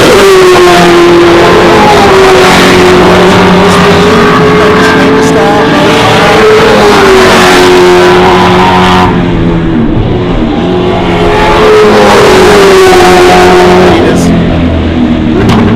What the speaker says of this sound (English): The two Plymouths going at it, the two representatives.